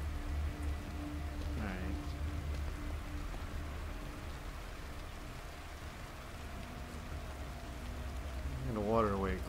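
Rain patters steadily in the horror game The Evil Within, a faint continuous hiss of falling drops with a low rumble underneath, a voice briefly heard near the end.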